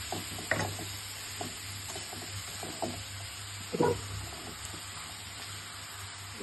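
Sliced beans, potato and radish sautéing in a pan with dried fish (shutki), heard as faint, sparse stirring clicks and a soft sizzle over a steady low hum.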